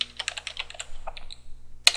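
Keystrokes on a computer keyboard click in a quick irregular burst, close and clear, as a command is typed at a terminal, then a final sharper key press.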